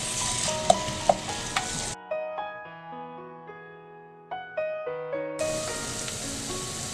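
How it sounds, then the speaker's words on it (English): Finely chopped onions roasting in a pan with ginger garlic paste and seeds, a close crackling sizzle with light stirring clicks that gives way to a brief melodic music passage before the frying returns. "Add finely chopped onion. Roast this until onions become soft."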